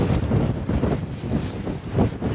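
Strong wind blows across an exposed coastal clifftop trail on the Faroe Islands, buffeting the microphone in loud, uneven gusts for a couple of seconds with no other sound.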